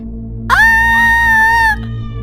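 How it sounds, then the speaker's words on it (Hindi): A woman lets out one loud, sustained scream lasting over a second, shrill and steady before cutting off abruptly, with a low background hum in a Hindi horror story. "ये देखकर वो जोर से चिल्लाई।"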